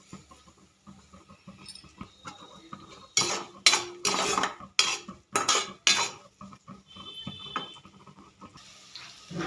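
Grated carrot tipped into a pan of tempering seeds, curry leaves and cumin for carrot rice, heard as a burst of loud clattering utensil scrapes and stirring clinks over a faint background sizzle, with no talking.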